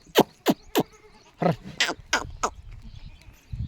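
Goats on a smallholding bleat in a quick run of loud, separate calls, six or seven in under four seconds, close by over a low rustling background, with no talk.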